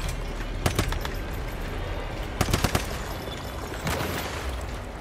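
Gunfire in the video game Once Human aimed at spider eggs: rapid bursts of automatic shots in a few tight clusters over a constant rumbling game background, fairly close and loud.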